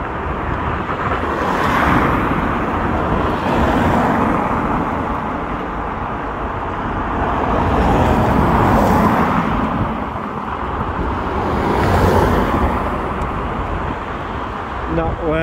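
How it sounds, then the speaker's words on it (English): A car passes along a road in traffic while waiting at lights, its broad swelling roar rising and fading with wind noise over the microphone. "I can hear a car coming down"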